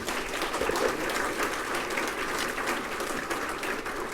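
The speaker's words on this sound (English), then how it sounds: "Give them another round of applause." Sustained audience applause at a regional civic address, a dense even clatter of many hands clapping throughout, loud and close with no talk over it.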